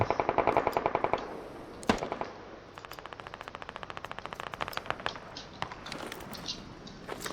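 Automatic weapon fire in the tactical shooter Squad, with rapid bursts of machine-gun rounds, a sharp louder shot, then long steady strings of fire with scattered cracks, close and dense throughout.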